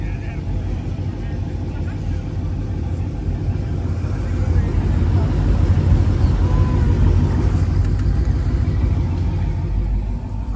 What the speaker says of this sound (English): Car's still coming through.